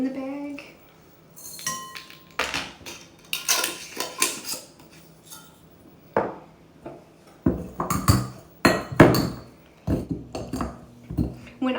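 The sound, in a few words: crushing black peppercorns in a bag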